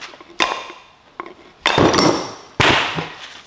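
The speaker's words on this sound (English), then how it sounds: "Here's my wooden hammer." Wooden hammer knocking on a bearing during a Datsun restoration: four separate close taps, each sharp with a brief metallic ring that fades, spaced unevenly, and no talk over them.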